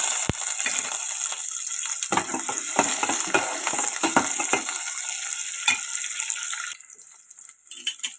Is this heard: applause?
no